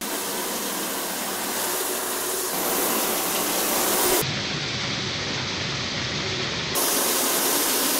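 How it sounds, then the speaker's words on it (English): An electric 1900 psi AR3 pressure washer sprays through a conical tip, giving a steady loud hiss of water that holds at one level, briefly changes tone midway, then returns. "I'm just gonna do a quick spray with the conical tip just to get off those harder areas."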